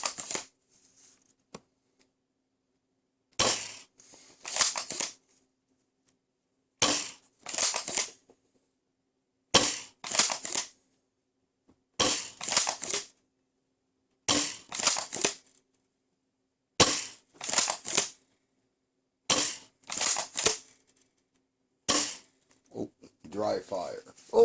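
A toy foam dart blaster with its stock spring fires Bamboo 2.0 darts one at a time in a string of sharp, close snaps and clacks, each followed by brief rattling, with silent gaps between shots.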